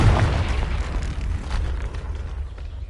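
The Confringo fire spell in Hogwarts Legacy explodes with a loud, deep boom, then a rumbling burst that slowly fades, with no talking over it.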